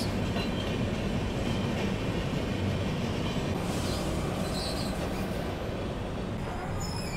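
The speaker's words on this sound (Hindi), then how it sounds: "भागलपुर से चलकर आनंद विहार टर्मिनल को जाने वाली गरीब रथ एक्सप्रेस।" From aboard an Indian train, the Bhagalpur–Anand Vihar Garib Rath Express passes alongside with a continuous close rumble of wheels and carriages, faint clatter and squeal, and no voices.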